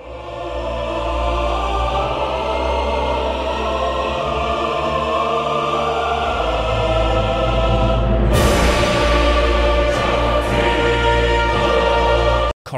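A choir sample library with legato sopranos, altos, tenors and basses sings sustained chords that hold steady, then swell brighter partway through before cutting off abruptly.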